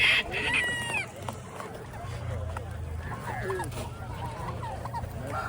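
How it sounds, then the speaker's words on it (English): Chickens at a poultry auction in Oklahoma, with clucks and a rooster crow rising over a busy, murmuring crowd and background bustle, some calls near and others farther off. "the chickens are around back"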